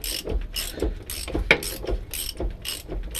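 A ratchet loosens a rear differential bolt on a Land Rover Discovery, giving a close, steady series of clicking pawl strokes at a brisk, even rhythm.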